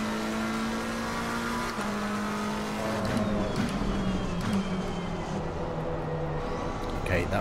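Race car engines in the video game Assetto Corsa Competizione: a steady, loud engine drone with shifting pitch, holding high revs and changing gear, while someone talks excitedly throughout.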